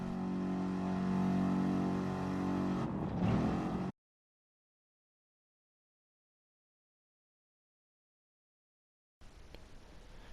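Race car engines rumble and rev on the starting grid in the Gran Turismo Sport racing game, a steady mechanical drone cut to silence, then returning faintly.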